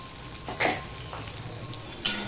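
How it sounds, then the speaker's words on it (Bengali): Urad dal cooked with radish and tomato is stirred in a pan after sugar goes in, with two quick scraping strokes over a soft, steady sizzle. "এবার চিনিটা দিয়েও আমি একটুখানি নেড়ে নেব।"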